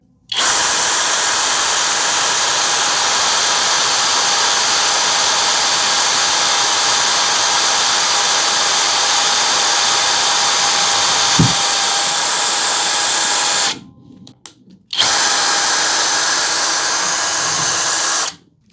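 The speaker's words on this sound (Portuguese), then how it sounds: "Aparafusamento em metalão de chapa grossa com parafuso autobrocante. Primeiro, na velocidade baixa." Hanabi LJ-2023 cordless drill on low speed drives a self-drilling screw into thick steel tubing, a loud steady whining whir running unbroken for about fourteen seconds, cutting off briefly, then resuming near the microphone.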